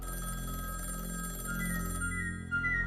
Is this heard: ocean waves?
no